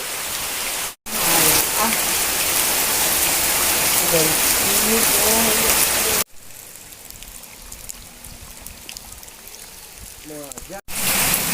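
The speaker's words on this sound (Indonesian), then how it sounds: "Gini hujan kieu." Rain falls in a steady dense hiss, loud at first, then softer and more distant after a cut, with voices speaking under it.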